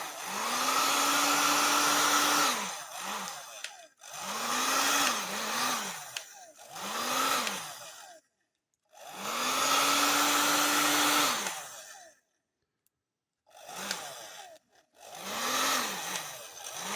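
Heat gun shrinking a heat-shrink sleeve over a 2S 18650 lithium-ion battery pack, a close, loud whirring blast switched on and off about six times, each burst a few seconds long with short gaps between, no speech.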